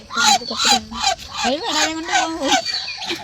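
A duck calls close by around a home yard in the morning, giving a run of loud, harmonic honking quacks in quick bursts, one after another, with no talking over them.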